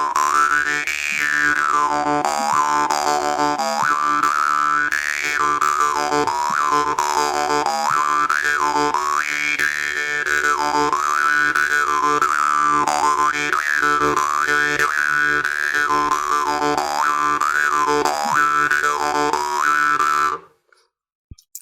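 Jew's harp played in a country style using breathing, a twangy droning boing whose overtones swoop up and down in a steady rhythmic pattern, close and loud for about twenty seconds before stopping abruptly.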